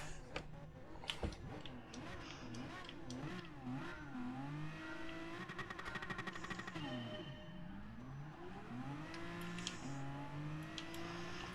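Several racing cars in a video game, including Aston Martins, Toyota Supras and Nissan GT-Rs, rev and accelerate together off the start line, with rising engine notes and gear changes layered continuously over about twelve seconds, no talking.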